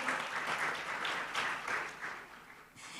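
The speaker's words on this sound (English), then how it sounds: "Can I please have a round of applause to begin our 3-session event today?" Moderate audience applause at an international quality tourism conference, fairly quiet and slightly distant, swelling and easing in soft waves before fading out near the end.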